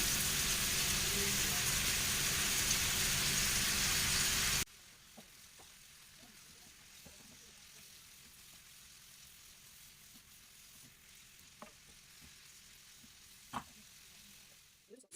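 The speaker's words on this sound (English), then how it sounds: "So we allow this to stir fry for like 30 seconds." Carrots and cabbage stir fry in a pan for fried rice, a loud broadband sizzle for about five seconds before it cuts off, leaving faint clicks and scattered utensil taps.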